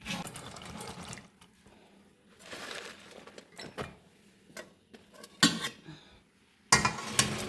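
Chillies for mulaku kondattam tipped back into the same vessel: a series of short clattering bursts of pots and utensils with faint trickling between them, close and fairly loud, no talking.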